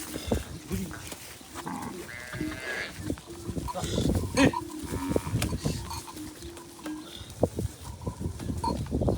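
Cattle at a temple cow shelter in Gujarat low and call repeatedly amid a busy, close mix of animal noise and people talking nearby.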